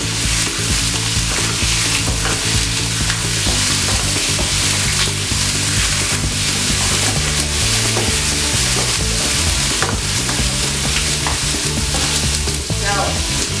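Pork sears in a hot pan, giving a loud, continuous sizzle and crackle that stays even from start to finish, close up and with no talking.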